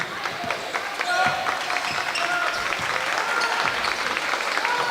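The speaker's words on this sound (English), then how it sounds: "You can hear the Van Buren bench right now clapping" Van Buren bench clapping at a high school basketball game in the Van Buren gym, rhythmic applause under a commentator's voice with crowd noise around it.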